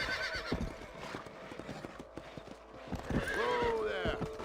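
A horse in Red Dead Redemption trots with rhythmic, close clip-clop hoofbeats, then gives a loud neigh near the end, with game sounds around it.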